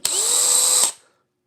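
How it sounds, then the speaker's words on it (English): A cordless power drill with a built-in light runs steadily at high speed for nearly a second with a loud, close whine, then spins down and stops. "This is the ultimate power in the universe of power drills."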